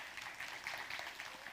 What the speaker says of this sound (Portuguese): Então, palmas para o Júlio.